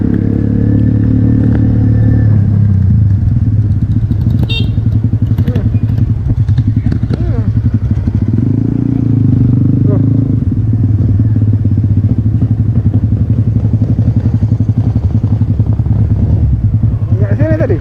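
A 1974 Triumph Bonneville T140V 750cc motorcycle engine chugs and sputters unevenly nearby, revving rough and loud throughout with crackling pops.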